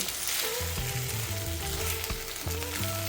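Jerk salmon fried rice stirred in a hot pan, with loud continuous sizzling. Repeated scraping and clattering stirs run through it, and a low tonal hum sits underneath.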